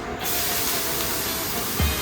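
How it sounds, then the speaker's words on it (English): King prawns drop into a hot curry mix and sizzle loudly, a dense steady hiss filling the whole moment after a brief quiet start, close and alone. "Oh, I hear it sizzle."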